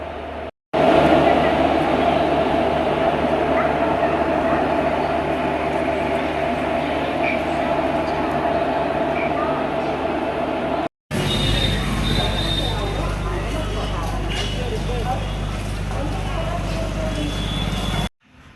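A diesel locomotive hauling a passenger train rumbles past close and loud, its heavy engine drone and rolling wheels continuous, broken by a brief cut midway.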